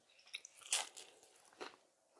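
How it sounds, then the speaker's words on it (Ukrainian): Crisp bites into crunchy fried Hungarian lángos dough make a couple of sharp crackling crunches up close, then quieter chewing, with no talk. "Це хрумко, це смачно і дуже апетитно."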